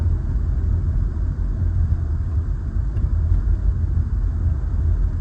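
A 2007 Acura RL runs steadily after a transmission service, a loud continuous low engine rumble close by with no clear revving or distinct gear changes, no talk.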